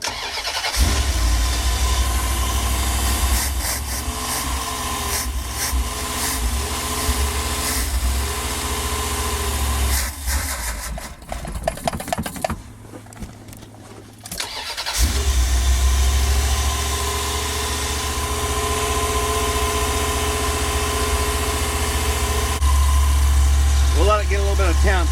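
A car engine fitted with a used Edelbrock 650 carburetor, run with no choke, idles steadily and loudly close by, briefly dipping in the middle before settling back into a constant rumble.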